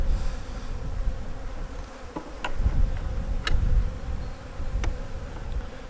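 Honeybees from a six-frame nucleus colony hum in a low, continuous buzz on a cold day, with a few brief sharp ticks and clicks over the drone; no one speaks.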